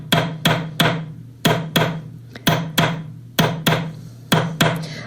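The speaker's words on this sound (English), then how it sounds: "I'm going to take my 4mm tube punch, and I'm going to pop it right over, and I'm going to give this a couple good taps with my chasing hammer" A chasing hammer taps a 4mm tube punch in sharp metallic pairs of strikes, repeated at an even pace, close and loud with no voices.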